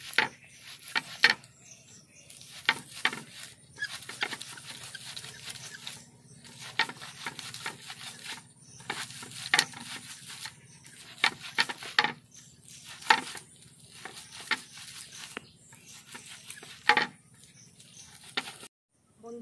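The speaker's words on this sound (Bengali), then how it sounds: "এইভাবে আমি তালের পাল্পটা বের করে নেব গ্রেট করে।" Ripe palm fruit rubbed against a grater to pull out the pulp, a series of short wet scraping strokes in irregular bursts with brief pauses, close and fairly quiet.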